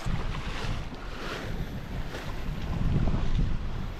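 Strong warm wind at sea buffets the microphone with a continuous low roar and rumble, gusting slightly stronger toward the end.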